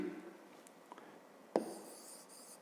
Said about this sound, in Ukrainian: Добре, записуємо тоді відповідь.